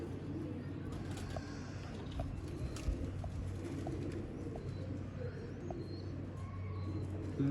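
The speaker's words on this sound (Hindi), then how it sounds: "इस क्वालिटी के दोस्तों कबूतर हैं" Pigeons of a prized breeding stock coo softly in a loft, low murmuring calls running continuously beneath a steady background hum, with faint chirps and scattered rustles.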